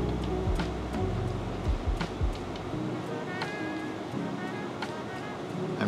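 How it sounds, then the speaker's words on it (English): A third slow pour of hot water trickles over coffee grounds in a flat-bottom dripper, a quiet, continuous close pouring sound with faint clicks and hiss around it. "And then our third pour."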